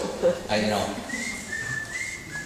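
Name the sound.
person whistling, echoing off walls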